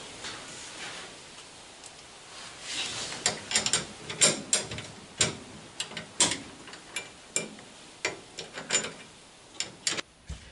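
Screws driven into welded seat supports for a Citroën Xantia interior fitted in a Traction 11B, heard as close, irregular ratcheting clicks and mechanical ticks in quick bursts with no voices.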